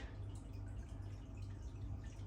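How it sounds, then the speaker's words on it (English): Lively pale ale beer poured into a glass, a soft steady fizzing and trickling close by, faint and continuous with no talk. "I just want to concentrate on pouring this beer a minute"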